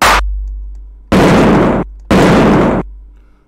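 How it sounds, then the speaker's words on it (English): A clap sample processed in drum synth software, heavily distorted and filtered: a loud burst cut off, then two long, harsh, gritty noise blasts in a row, each lasting under a second, alone with no talk. "let's say if I take this claps again, I can distort it, filter it"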